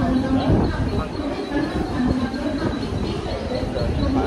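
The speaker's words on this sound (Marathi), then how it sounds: "ट्रेन येत आहे आता" A local train arriving at Dadar railway platform, heard as a continuous loud rumbling roar with a steady mechanical drone, close and dense throughout, with wind or crowd noise mixed in.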